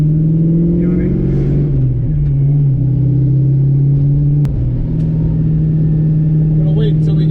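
Stock Ford Mustang with a 302 V8 fitted with an old nitrous kit, heard from inside as a steady loud rumbling cruise with engine note rising slightly, not at full throttle.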